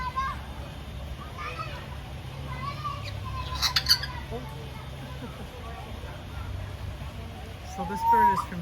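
A red-tailed African grey parrot from Central Africa, kept in a sunny garden, lets out a couple of short, fairly distant squawks over a low, steady background murmur.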